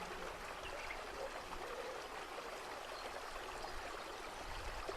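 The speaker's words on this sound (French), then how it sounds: "Observez cette cascade." Waterfall with water flowing down different paths into a pool below, heard as a continuous even rush and trickle, steady and moderately close, with no voices.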